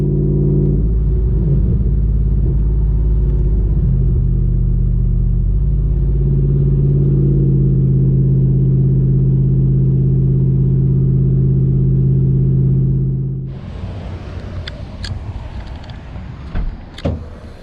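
Low steady engine rumble of an old car setting off on a test drive, loud and close for most of the stretch, then dropping away to quieter road noise with a few light clicks near the end.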